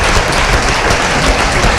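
Dense, steady hand clapping fills the whole stretch, loud and close, with no pause or break in the rapid patter of many hands.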